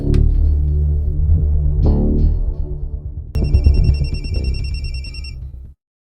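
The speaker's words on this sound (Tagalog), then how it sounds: "Tawagan ko si Tito Franco nimo." A telephone rings during a call: loud electronic ringing with a repeating warbling trill that starts partway through over a low droning background, then cuts off abruptly.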